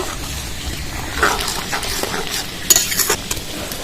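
Cooked lentil dal with salt and turmeric gets stirred in a pot, soft wet scraping and spoon knocks against metal, near and irregular, with a few sharper clinks.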